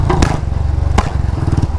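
A Royal Enfield Bullet motorcycle idling with a rhythmic low thump, broken by a few sharp exhaust pops and cracks, close and loud.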